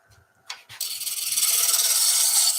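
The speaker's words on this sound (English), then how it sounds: "Lathe speed up a little bit faster now." A wood lathe spins a wooden kitchen scoop blank while the tool cuts, a couple of brief scrapes and then a rising, rhythmic rasping hiss that grows louder and steadies.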